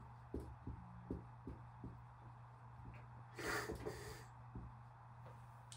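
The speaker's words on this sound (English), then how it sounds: "Excuse my sniffling." A lecturer's quiet, repeated sniffs, about ten short intakes of breath at a steady pace, close to the microphone, with one louder rush of breath in the middle and no talking.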